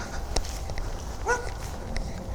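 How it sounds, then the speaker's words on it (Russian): A dog barks a few times at a distance in a Russian underground pedestrian passage, short yips and whimpers over steady background noise and faint footsteps. "Точно собака лает."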